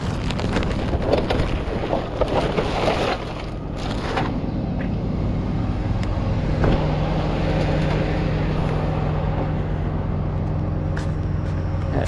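Blustery wind buffets the microphone outdoors at the scene of a head-on crash between a GMC Yukon and a Chrysler 300, a steady loud rumble with gust bursts and no talking.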